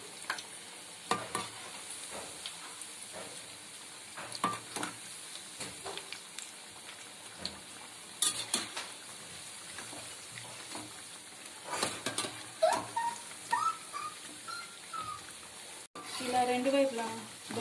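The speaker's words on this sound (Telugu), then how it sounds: "వీటిని రెండు వైపులా బ్రౌన్ కలర్ వచ్చేంత వరకు వేయించుకోవాలండి" Bottle gourd fritters deep-fry in hot oil with a steady sizzle, broken by scraping stirs and turns of a utensil and a louder bubbling burst near the end, while a voice talks at times.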